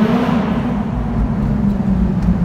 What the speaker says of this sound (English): Yo, my car is loud in here.